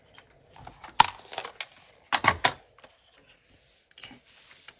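Paper trimmed for a planner page, giving sharp crisp cutting snaps, a single strong one then a close cluster a second later, with quieter rustling and handling noises between.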